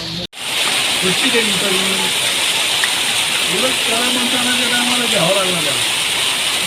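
Heavy rain pouring down during a downpour, a loud, constant broadband hiss close by, with people talking over it throughout.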